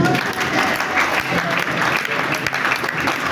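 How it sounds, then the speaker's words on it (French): A church congregation in Cape Town applauds a husband, with dense, steady clapping filling the room and some voices mixed in throughout. "Applaudissons pour lui."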